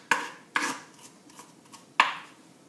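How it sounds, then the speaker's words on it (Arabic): Garlic chopped with a knife on a board for a spaghetti Bolognese, giving three sharp, close chops with some lighter taps between them and no talk. "قصيتو الثوم كما تشوفوا"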